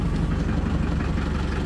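A 1996 Metrocab diesel taxi idles close by, a steady, rough, low rumbling chug with no voices over it.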